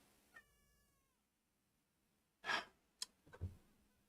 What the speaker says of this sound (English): I have a cat who is meowing in the background.